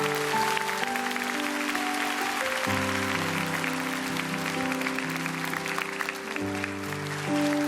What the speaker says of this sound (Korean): 다시 한번 큰 박수로 축복합니다.